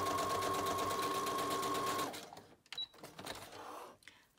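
Sewing machine stitching through a journal, a fast loud mechanical whir with even rapid needle beats that stops after about two seconds, followed by quiet handling rustles and soft clicks.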